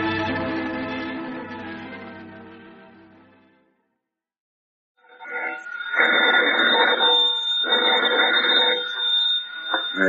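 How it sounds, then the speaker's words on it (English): An old telephone rings as a sound effect in a vintage radio comedy show, two long buzzing rings after a fading musical cue and a brief silence, loud and close. "Granny, Abner, I believe that's our ring"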